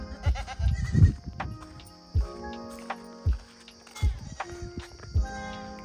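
Goats on a farm in Jhargram, West Bengal, bleat repeatedly from close by, with several loud calls spread across the clip over a quiet background of animal movement.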